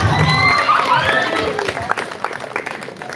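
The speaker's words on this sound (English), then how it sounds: "Give her a big round of applause." Applause and cheering rise from the audience at a speech competition as a young contestant is called onto the stage, with whistles and excited shouts on top, then the clapping thins out and fades.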